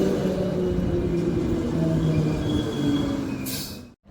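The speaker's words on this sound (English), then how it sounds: "then from the city get the train to Fremantle" A train to Fremantle, Perth, rumbles steadily along with a faint metallic squeal over the wheels, continuous throughout, then a brief hiss and a sudden cut near the end.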